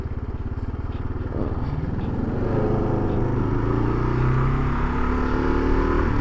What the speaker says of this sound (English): that truck fucking revved at me for no reason